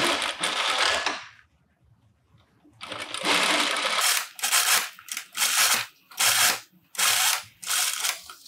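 A sewing machine stitching a facing onto a blouse runs in short repeated bursts of mechanical whirring, close and clear, with brief pauses between runs.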